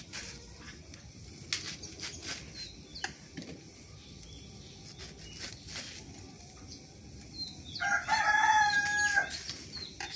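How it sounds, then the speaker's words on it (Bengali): A rooster crows in the morning at a rural village home, at middle distance against quiet outdoor background with scattered bird calls, the crow rising clearly near the end. "মুরগির ডাক"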